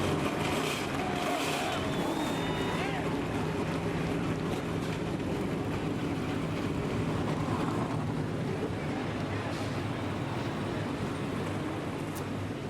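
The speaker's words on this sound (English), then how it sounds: "The engines are roaring and we're getting ready." Race car engines at a NASCAR truck event, the Buckle Up in Your Truck 225 in Kentucky, roar together in a loud, steady broadband rumble throughout, with wind buffeting the microphone.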